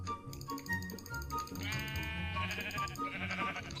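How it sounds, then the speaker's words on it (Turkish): Sheep in Minecraft bleat over blocky game audio with a steady music bed, several short wavering bleats overlapping across the few seconds, fairly close and clear. "Koyunlarımızı atalım şuraya."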